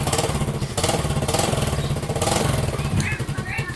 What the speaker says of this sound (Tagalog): So naririnig nyo, umaandar na yung aking motorcycle.